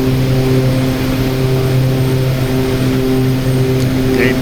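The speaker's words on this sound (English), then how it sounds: "Rotate. Good takeoff. Gear up." An OV-10 Bronco in the DCS flight simulator roars through its takeoff roll. The engine drone is loud and steady, with strong tonal hums, and holds constant throughout with no pauses.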